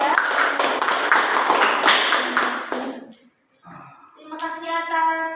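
A classroom of children clapping their hands together for about three seconds, loud and dense, then stopping as a voice and a short ringing tone follow.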